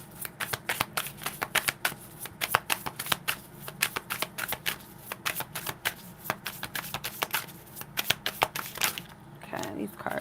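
Tarot cards being shuffled by hand in rapid riffling bursts, a continuous crisp flutter of card edges over ten seconds, close and fairly loud, with a brief pause near the end.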